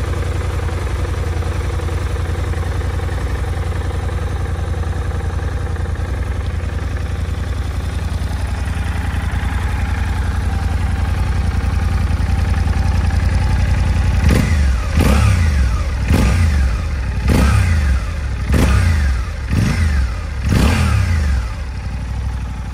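Honda XL750 Transalp, a liquid-cooled inline twin-cylinder touring enduro, idles steadily at close range, then revs sharply in five or six quick throttle blips toward the end.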